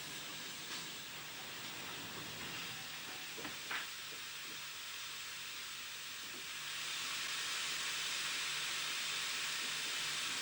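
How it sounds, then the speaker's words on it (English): Steady broad hissing from a steam tank engine on a branch line as its safety valve lifts after overfilling with water, with a few faint clanks early on and the hiss swelling louder in the latter half. "A 262 tank engine overfills with water and safety valve lift in preparation for a run to Yatton."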